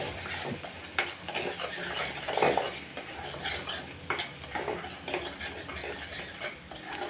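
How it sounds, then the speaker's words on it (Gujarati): Spiced potatoes with garam masala and salt are mixed in a pan, with repeated scraping and clinking of a utensil against the metal and a light sizzle underneath. "મીઠું નાખશું અત્યારે ટેસ્ટ પ્રમાણે, અને આ બધાને પણ સરસ મિક્સ કરી લેશું."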